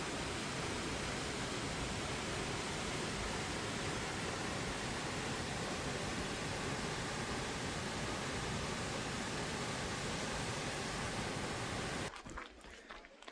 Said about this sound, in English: We're at the waterfalls.